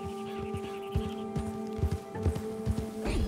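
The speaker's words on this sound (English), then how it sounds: "God damn it! Will you take control of that horse?" Horse hooves galloping in Red Dead Redemption 2 gameplay, a quick irregular clip-clop of thuds over a steady game music drone, moderately loud and close.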